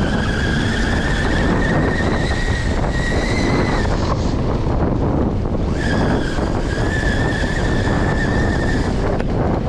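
A Risun electric motorbike fitted with a CYC X1 Pro motor rides along, its high motor whine holding steady, cutting out midway and returning, all under a constant heavy roar of wind.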